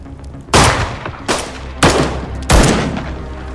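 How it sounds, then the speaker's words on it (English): Several heavy gunshots crack out in the dark, four loud blasts with reverberant tails, irregularly spaced and close, with shouting around them. "All the gunfire sent Henry running for his life."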